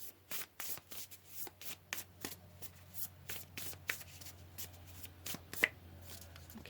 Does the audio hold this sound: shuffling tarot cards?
yes